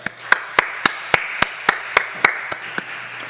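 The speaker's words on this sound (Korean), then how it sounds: "하나님께 영광과 감사의 박수를 올려드리겠습니다" Church congregation at a Korean Friday evening worship service claps in unison in praise, a steady row of about a dozen crisp, evenly spaced claps at a moderate tempo, loud and close over a low room hum.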